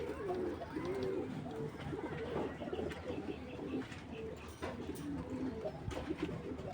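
A big-size pair of racing pigeons coos steadily and close by, with repeated low rolling calls running through the whole stretch over a busy background of other birds.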